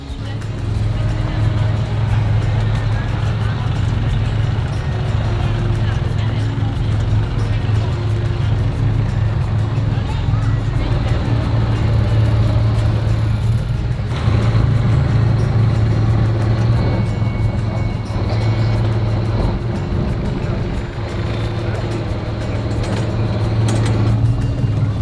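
A boat motor runs steadily while under way, giving a loud, continuous low drone for the whole stretch, with faint voices now and then.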